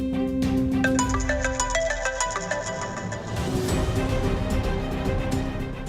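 A melodic phone ringtone plays loudly and repeatedly, its bright electronic notes cycling in a steady pattern close to the listener.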